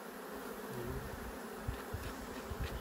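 Wild bees buzz continuously as they fly around, a dense droning hum near the listener with occasional louder passes close by.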